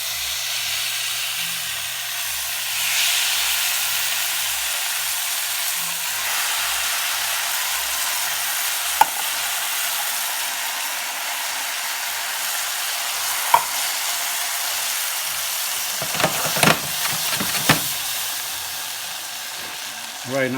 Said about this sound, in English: Just be careful because you're going to get steam.